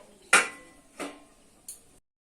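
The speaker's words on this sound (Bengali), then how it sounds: "ঢাকা দিয়ে দিচ্ছি আমি এটাতে" A lid goes onto a cooking pot of mushroom and chatu masala curry with a sharp metallic clank, a softer second clatter and a faint final tick, each close and alone in a quiet kitchen.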